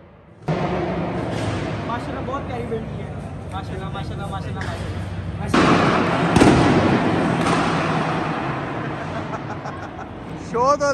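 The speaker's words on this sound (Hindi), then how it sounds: "और ये यहाँ पटाखे चल रहे हैं।" At a Lahore auto show, firecrackers pop and crackle among a noisy crowd; sharp bursts cut through loud chatter and voices talking throughout, with a louder flurry of bangs partway in.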